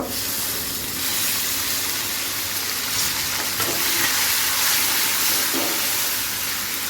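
Tomato added to fried onions in a pan, giving a loud, continuous close sizzle and hiss that holds steady throughout, with no voices present.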